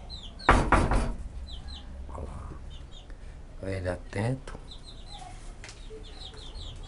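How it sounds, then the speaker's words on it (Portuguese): A Japanese silkie rooster with five toes gives short clucking calls amid a loud knock and background bird sounds, while a person speaks briefly nearby. "Que é barulho, o galo já reclama."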